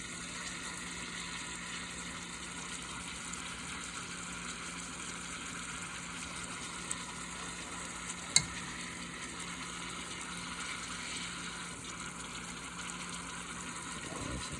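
Venison back strap frying in a pan, a faint, even hiss that runs steadily throughout, with a couple of tiny clicks and one sharp tick near the middle.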